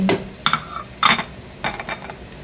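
Garlic fried in cooking oil for a bitter gourd dish, with short bursts of sizzling and stirring scrapes that come in separate spurts, fairly close and with no voices.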